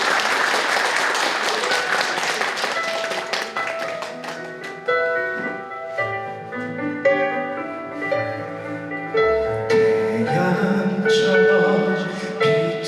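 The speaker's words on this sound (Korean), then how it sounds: "여러분의 박수로 노래 시작해 보도록 하겠습니다" Rhythmic clapping from a concert audience keeps time at the start, then piano and instrumental music take over and carry on.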